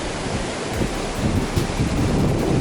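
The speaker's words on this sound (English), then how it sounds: "Crashing waves." Waves crash steadily onto a black sand beach on Hawaii's Big Island, a loud continuous wash of surf with surging peaks, mixed with wind noise and no voices.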